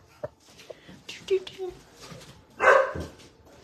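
Dogs barking inside a home kitchen while cookies are being made: a few scattered soft yips, then one louder bark burst near the end, with a person speaking quietly throughout.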